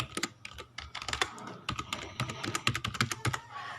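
Rapid typing on a computer keyboard, heard up close: crisp clacking keystrokes come in quick uneven runs with short pauses, and there is no speech.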